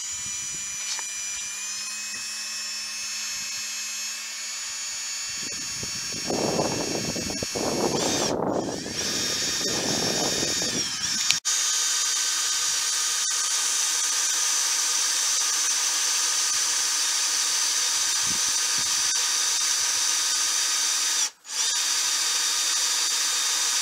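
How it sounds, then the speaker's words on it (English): Power drill boring into the fiberglass bodywork of a Harley Tri Glide, a close whining motor with a gritty burst of cutting in the middle, followed by a long steady hum. "And when you drill, I would be very gentle with the fiberglass."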